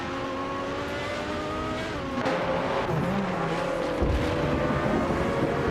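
A 1985 Mazda 737C racing car in a video game, its engine droning steadily and shifting pitch, with other cars passing and a brief tyre squeal and thump toward the end, no talk.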